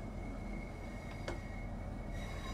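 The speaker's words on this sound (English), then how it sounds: "And there's another freight train here!" Freight train rumbling past in Train Sim World 3, a steady low roar of wagons with a faint wheel squeal, continuous and fairly distant throughout.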